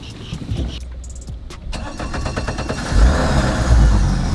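An old Mercury outboard motor on a fishing boat on a swampy river cranks with rapid starter pulses, catches, and settles into a loud, rough running rumble close by.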